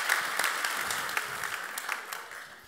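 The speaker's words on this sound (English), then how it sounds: "Oh, clap it up, clap it up." An audience claps at a school event, a dense, steady burst of applause that starts full and slowly fades over a few seconds, with no voices over it.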